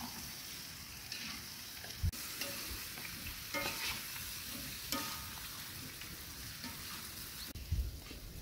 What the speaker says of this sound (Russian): И мяско, и картошку жарим на большом огне, чтобы оно не тушилось